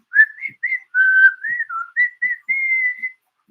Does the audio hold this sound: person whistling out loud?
yes